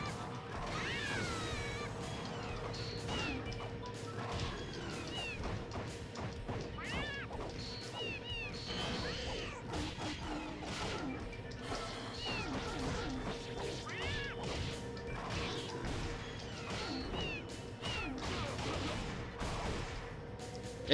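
Cat-like fighters brawl in the Bloody Roar 4 fighting game, a steady stream of hits, crashes and growling snarls with cat yowls over game music throughout, fairly loud and busy.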